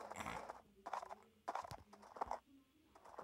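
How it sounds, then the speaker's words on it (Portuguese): Horse hooves in a video game clip-clop in a loose, irregular rhythm, fairly close, with faint murmuring and other noises underneath. "O João vai inventar de correr com o cavalo."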